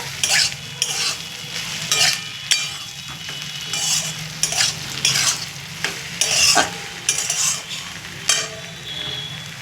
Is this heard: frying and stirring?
yes